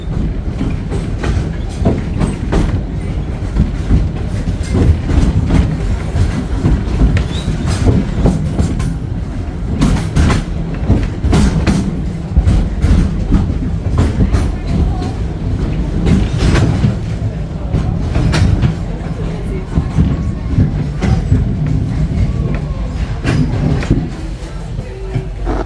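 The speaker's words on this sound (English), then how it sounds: "Remain seated until the train comes to a complete stop" Wildlife Express train at Disney's Animal Kingdom rolling along steadily, a loud continuous rumble and clatter of wheels on track heard from on board for the whole stretch.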